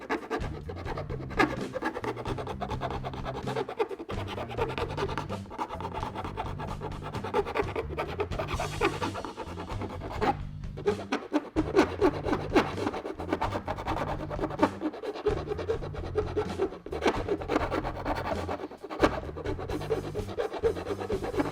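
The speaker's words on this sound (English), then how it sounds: "I'm just going to use a round file and just clean up the rest of this real quick" A round file rasps over freshly cut metal edges on a hidden winch mount for a CBI T3 push bar, giving repeated close scratching strokes in a steady back-and-forth rhythm with no talk.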